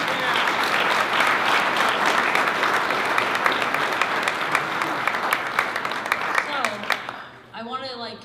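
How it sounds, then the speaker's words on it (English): A school board meeting audience applauds partner players in a loud, dense burst of clapping that tapers off toward the end, giving way to a brief voice. "So if you'd give them a round of applause."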